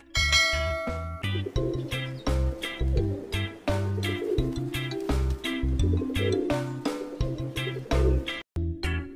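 A pigeon coos in repeated rhythmic, throaty phrases, close and fairly loud, with short pauses between the soft rolling calls.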